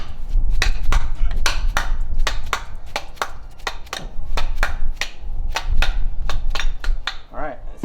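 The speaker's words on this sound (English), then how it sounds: "we need to go ahead and continue hitting the perch so we can knock that dust boot off" A dead blow hammer strikes the old spring perch on a 2021 Ford Bronco's coil spring, knocking it loose: a long run of sharp, loud, close thuds at a fairly steady rhythm, with a few brief pauses between blows.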